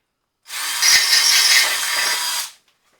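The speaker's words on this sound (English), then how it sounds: "when you're drilling through metal, right when you feel it starting to break through, lighten off a little bit" A power drill whines loudly through metal for about two seconds, starting abruptly and cutting off sharply, with a high grinding edge.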